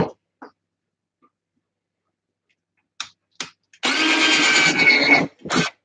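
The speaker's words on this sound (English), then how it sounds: "and I'll drill some stuff" A power drill bores into aluminium on a robot-building bench, one loud sustained whine of about a second and a half, preceded by a few sharp clicks and followed by short bursts of handling noise.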